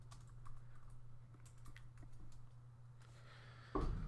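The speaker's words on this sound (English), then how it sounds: "just let me know when you get to see my excellent typing here" Rapid irregular clicking of fingers typing on a computer keyboard, close and fairly quiet over a steady low electrical hum, ending in a louder thump.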